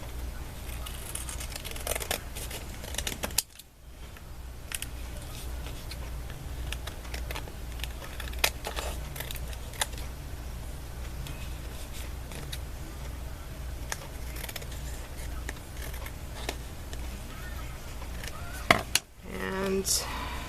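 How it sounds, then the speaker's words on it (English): Close, intermittent snips and crinkles of scissors cutting paper, with rustling between cuts and a quiet room in the background. "Should use the bigger scissors, it's gonna go faster."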